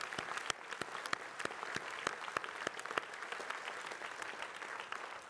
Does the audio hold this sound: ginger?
no